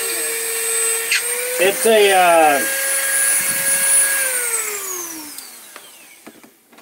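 A small handheld rotary tool with a grinding stone tip whines at a high steady pitch, spins up with a quick rising sweep, then winds down in a long falling tone as a voice talks over it.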